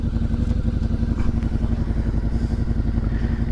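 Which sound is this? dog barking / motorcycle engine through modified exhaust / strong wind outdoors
motorcycle engine through modified exhaust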